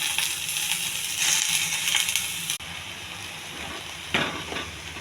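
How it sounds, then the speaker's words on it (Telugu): Amaranth leaves go into a sizzling tempering of onion, cumin, chana dal, urad dal and dried red chilli in a pan, giving a broad crackling hiss that dips sharply midway, then continues more quietly with a brief rustling burst. "తోటకూర వేస్తున్నాను."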